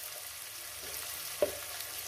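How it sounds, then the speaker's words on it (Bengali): Chopped onion sizzles in a hot pan with a steady, hissing fry. One brief clink of a utensil sounds partway through, and no one speaks. "কুচো করা পেঁয়াজটাকে দিয়ে দেবো এখানে"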